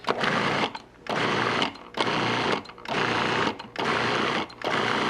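A Cuisinart food processor whirs in five short, loud pulses on chocolate cookie crust, each lasting about a second with brief pauses between them.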